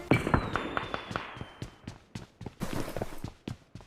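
A flare gun fires in PUBG Mobile with a sharp launch followed by a whooshing trail, then a string of crackling pops and bursts at irregular intervals, fairly near and moderately loud.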